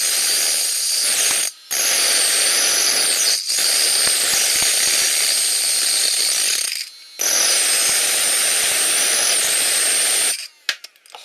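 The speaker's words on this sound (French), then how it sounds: "les deux moteurs se mettent à tourner l'un avec l'autre et je rajoute le générateur." Two electric motors driving a generator spin with a steady, loud mechanical whir and a high whine, cutting out briefly a few times before resuming, then stopping.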